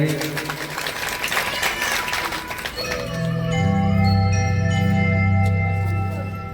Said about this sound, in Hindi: इनके लिए जोरदार ताली बजाएंगे